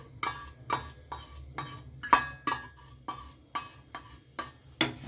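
A spoon scrapes and clinks against a pot about ten times in a steady rhythm while milk mixed with cornflour is stirred over heat to make homemade fresh cream, close and alone.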